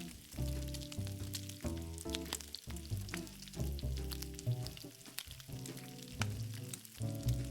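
Tempeh in marinade fries in a pan over low to medium heat, giving a steady close sizzle that runs beneath prominent background music.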